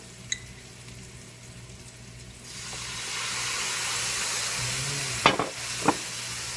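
Mushrooms stir-fried in a pan of oil give a steady broad sizzle that swells partway through, with a couple of brief scraping clicks near the end; no talking.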